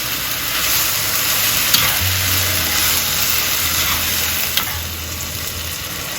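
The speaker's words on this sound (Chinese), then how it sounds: "炒软的洋葱、胡萝卜，加入香芹，中间不停的翻炒" Onions, carrots and celery stir-fry in a pot with potatoes, a steady loud sizzle and hiss that runs unbroken, with faint scraping of the stirring underneath.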